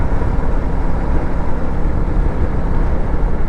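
Royal Enfield Meteor 350 motorcycle ridden on the road to Santiniketan, a constant loud engine drone blended with heavy rushing wind on the microphone, with no pauses.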